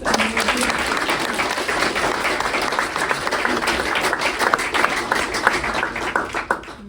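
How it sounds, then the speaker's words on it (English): A crowd at a hackathon project presentation event applauds steadily and loudly, dense clapping sustained throughout with no pause. "let's get a round of applause"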